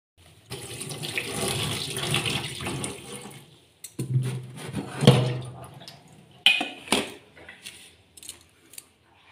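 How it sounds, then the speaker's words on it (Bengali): Radish being washed under a running kitchen tap, with a steady gush of water splashing for several seconds, then pausing and resuming in shorter bursts as the vegetable is rinsed, close and fairly loud. "তো চলো আগে ধুয়ে নিই।"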